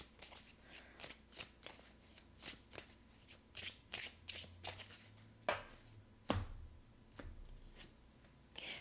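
Tarot cards are shuffled and drawn by hand: a quiet, close run of soft rhythmic riffles and flicks, ending with a few sharper snaps and taps as cards are pulled and laid down.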